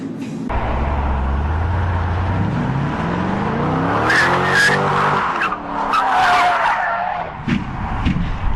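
A supercar, apparently a Lamborghini, skids with long screeching tire squeal and roaring engine, followed by crashing and scraping noises, loud and close.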